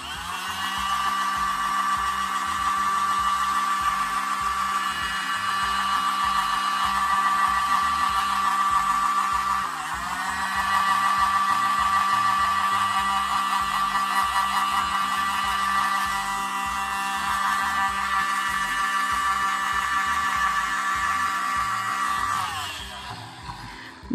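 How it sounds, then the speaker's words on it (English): A hair dryer blows on alcohol-based Marabu sketch marker ink, giving a loud, steady whirring whine that holds evenly for about twenty seconds, dips briefly partway through, then cuts off at the end. "I'm gonna blow dry it."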